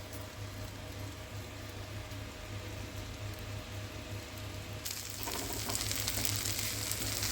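Prawns fry in a pan with a steady hiss and sizzle, close and even throughout, then swell to a louder, brighter crackle toward the end, with no voices.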